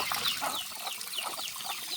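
Chickens cluck and squawk in a busy, continuous chorus at a rural forest homestead, with short sharp calls repeating over the flock's murmur.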